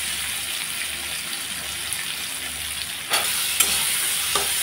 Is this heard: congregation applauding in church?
no